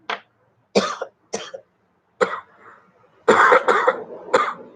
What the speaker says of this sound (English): I gotta have emphysema, so sometimes it makes me cough.